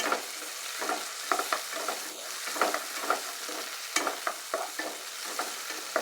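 Tomatoes frying in a pan while being stirred, sharp scraping stirs landing in irregular bursts over a steady sizzle, close and alone with no talk.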